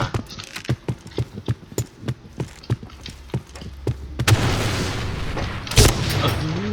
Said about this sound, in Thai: ปล่อยระเบิดแก๊สน้ำตา